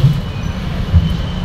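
A low, steady rumble of an MRT rail train rolling past in Pasay, loud and close, with heavy low-end wheel noise and no voices.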